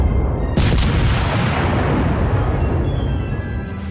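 A heavy naval cannon salvo from a lightly armoured cruiser in World of Warships booms loudly once, then its deep rumbling roar slowly fades and decays over a few seconds.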